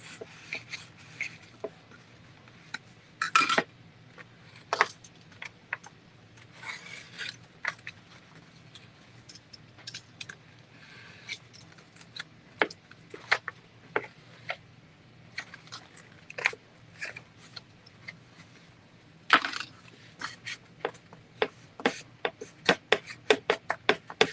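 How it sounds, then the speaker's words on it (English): Quiet scraping and rubbing as excess material is trimmed off a thrift-store birdhouse with a knife, with irregular small clicks and snaps and scattered short strokes close by. "And then I'm going to cut off the excess."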